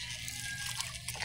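Water drips and trickles steadily from a leaking wooden boat, a close, continuous splashing patter with small droplet ticks over a brief stretch, without voices.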